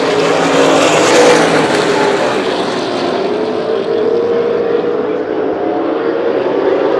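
Super late model stock cars race around a short oval bullring track in Las Vegas, a continuous loud, distant roar of many engines blending into a broad rumble that slowly fades.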